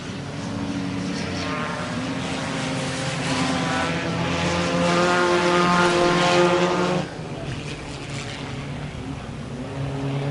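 Race cars circling a track at a Humberstone Eve of Destruction event, a loud, sustained roar of several engines that swells, then eases to a lower drone after a few seconds.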